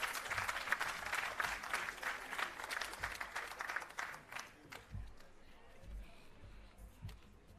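Audience at a restorative justice facilitator graduation ceremony applauds, a crowd of clapping that starts strong, then thins and fades into scattered claps and room noise.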